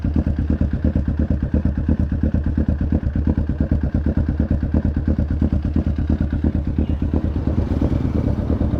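A Kawasaki Ninja 650 fitted with a Villain aftermarket exhaust runs close up after a cold start, a steady loud burbling idle with rhythmic pulsing, and the engine note shifts slightly near the end as it is revved.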